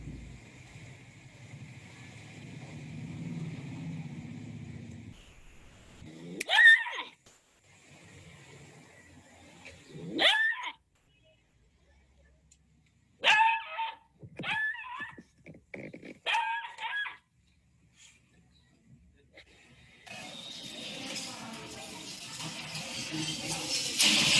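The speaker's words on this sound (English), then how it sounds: "I'm going to show a very quick clip of a rabid dog, just so you can see what they look like." A rabid dog gives several short, strained yelps and whimpers at a moderate distance. The calls come in separated bursts over steady wind and outdoor background noise, with a louder rush of noise near the end.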